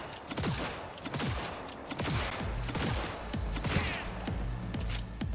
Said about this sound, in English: Pretty sure I'm shooting him.